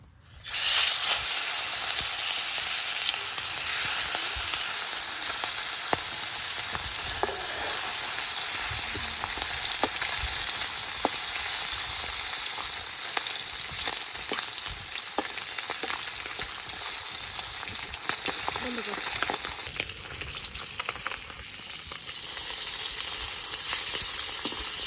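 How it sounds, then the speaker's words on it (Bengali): Spice-marinated fali fish drops into hot oil and fries with a loud, dense, constant sizzle and scattered small pops that keep going close by, with no talking. "এখন মশলা মাখানি মাছটা দিয়ে দিই।"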